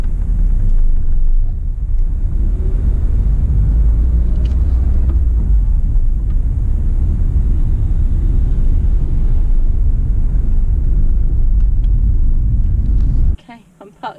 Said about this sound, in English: You might just have a little detour and a little drive around Devizes whilst I find a space.